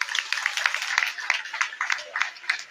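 An audience applauds after a speech at an African Liberation commemoration, a fairly close, steady patter of clapping hands that continues without a pause.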